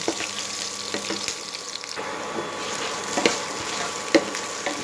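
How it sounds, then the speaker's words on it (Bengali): Potatoes frying in hot oil with ginger, cumin, curry leaves and chopped chilli for sabudana khichdi, a loud close sizzle with occasional stirring scrapes and a few sharp spatula knocks. "কারি পাতা আর লঙ্কা কুচিটা আমি দিয়ে দিয়েছি এইবারে আলুটা আমি দিয়ে দেব"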